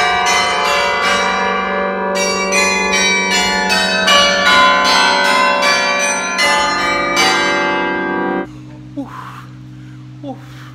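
Large bells in a bell tower in Belgium ring loudly and close, rapid overlapping strikes in a dense, sustained peal that fades out, leaving a low hum and a few faint voices.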